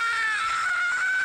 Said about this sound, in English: Let's all scream together.